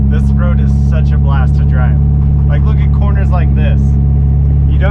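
Subaru WRX driving a canyon road, its engine a steady loud drone throughout with a person talking over it.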